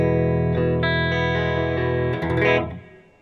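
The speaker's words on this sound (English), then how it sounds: "This is my clean tone." A clean electric guitar tone through a Joyo Vision pedal rings out in sustained chords with a wash of reverb, the last notes fading out.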